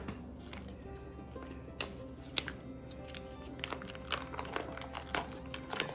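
Plastic packaging around a Smithfield rib pack being cut open, crinkling and snipping in quick irregular bursts, close and fairly quiet, with no talking.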